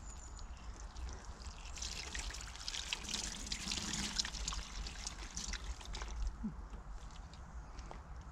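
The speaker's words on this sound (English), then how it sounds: "we'll use this as a drip tray for now and give them a good watering" Water poured from above onto potted cabbage plants sitting in a makeshift drip tray, a steady soft trickle and splash lasting several seconds, close and fairly quiet with faint ambient noise.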